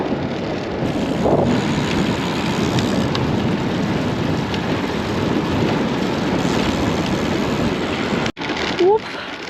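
Strong wind roars over the microphone while cycling downhill, a loud, steady buffeting rush that holds almost unbroken, then briefly cuts out near the end.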